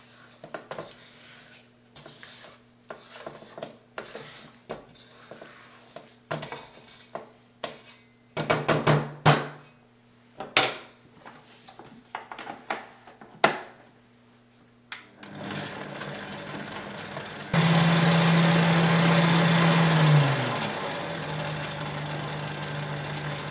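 Almond cream batter is worked in a bowl: a run of sharp scraping taps and knocks, then a loud steady mechanical whir of mixing that drops in pitch near the end.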